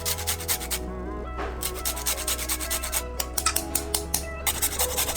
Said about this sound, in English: Just grating a little bit of ginger.